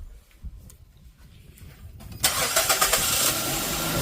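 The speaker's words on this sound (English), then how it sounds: "We're gonna start this vehicle up again and see if we did what we're supposed to do. So start the vehicle up." A 2009 Nissan Tiida with a cylinder 3 misfire (P0303) and a rough idle sits quiet for about two seconds, then its engine cranks and catches into a loud, steady idle that runs to the end.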